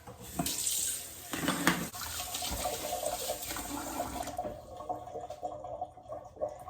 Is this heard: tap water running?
yes